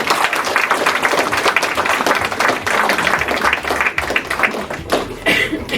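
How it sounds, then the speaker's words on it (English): Guests at a Christmas dinner give a round of applause, a loud, dense wash of clapping that carries on steadily with a few brief dips, with faint chuckles mixed in. "So I think round of applause for that."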